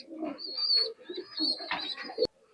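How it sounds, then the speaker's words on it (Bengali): A pair of golden pigeons coo close by in a few soft, throaty phrases, ending with a brief sharp click. "এটা এই দুটো হচ্ছে গোল্ডেন কবুতর"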